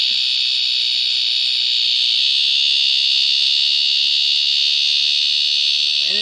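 Loud, steady, high-pitched cicada buzzing heard up close in a city yard setting, a continuous droning whine with no pauses and no talk.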